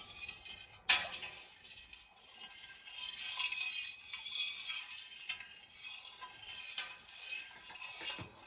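A spoon stirring milk in a pot while making cheese at home, with faint soft scraping and light clinks going on steadily, one sharper knock near the start.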